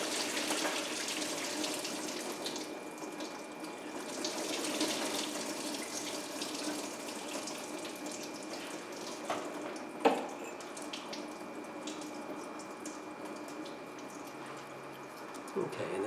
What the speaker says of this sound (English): there will be a little bit of antifreeze coming out, but I do have a bucket down below